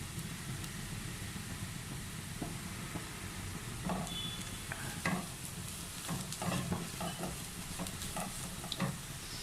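Spice powders and garam masala are stirred in a hot pan for a sausage fry, a continuous sizzle with scattered spatula scrapes and taps growing busier toward the end.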